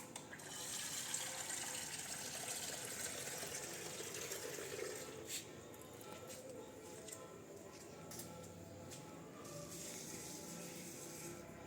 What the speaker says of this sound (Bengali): তার আগে একটু ওইখানে গাছ দুটোতে জল দিয়ে নিই